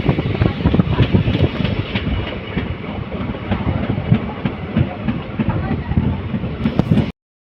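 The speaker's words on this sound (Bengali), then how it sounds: "আর এই ডিজেল ইঞ্জিনে এই ধক ধক ধক ধক এই আওয়াজটা সেই লাগে" A diesel-hauled passenger train with ICF coaches rolls along, engine throbbing and wheels clattering loudly and steadily from on board, with faint talk in the background.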